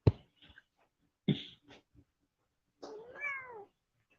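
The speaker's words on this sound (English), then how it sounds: "Meow." A cat gives a few short close meows and chirps separated by silence, ending with a longer drawn-out meow, faint and alone in a quiet indoor room.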